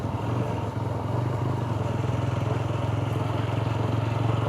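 A motorcycle engine idling steadily and close by as the bike is parked, a continuous low throbbing rumble with no talk over it.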